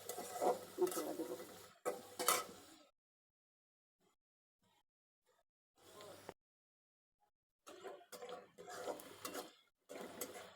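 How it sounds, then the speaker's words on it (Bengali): Onion frying in oil in a wok: loud bursts of sizzling and stirring, broken by long near-silent pauses before the sizzle returns in choppy stretches. "কড়াইতে তেল দিয়ে দিলাম, তেলের ভিতরে পেঁয়াজটাকে একটু ভালো করে ভেজে নিয়ে মশলা দেবো"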